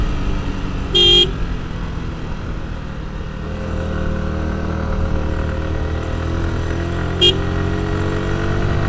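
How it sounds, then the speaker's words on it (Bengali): A motorcycle horn gives two short toots, several seconds apart, over a steady engine and road hum while riding on the road from Chittagong to Khagrachhari. "হর্ন বাজাইলাম"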